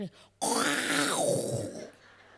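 A voice imitates a loud, rasping snore, one long harsh breath that swells and then fades away.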